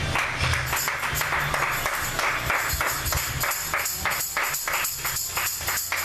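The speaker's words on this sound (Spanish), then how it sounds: "Denle un aplauso a Jesús." Church congregation applauding for Jesus, a dense sustained wash of many hands clapping, loud and continuous with a faint ringing tone above it.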